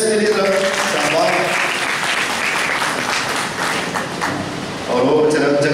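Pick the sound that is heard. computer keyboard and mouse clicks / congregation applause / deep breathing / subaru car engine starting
congregation applause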